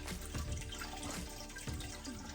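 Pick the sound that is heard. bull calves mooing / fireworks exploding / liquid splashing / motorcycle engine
liquid splashing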